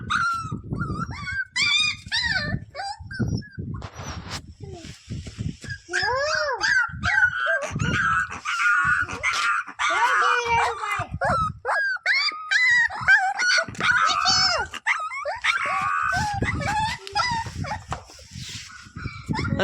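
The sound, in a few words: puppies whimpering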